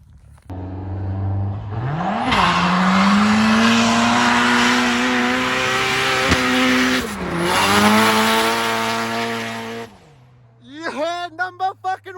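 A Toyota Cressida fitted with a steering lock kit drifts through a corner on a private road in Mexico, its engine droning loud and steady as the tires squeal and slide for several seconds before the noise cuts off and a brief burst of revving follows.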